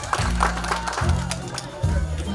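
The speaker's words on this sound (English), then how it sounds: "another round of applause for her" An audience claps at a holiday event while someone speaks over it through a loud, reverberant PA. The applause stays a steady background under his voice.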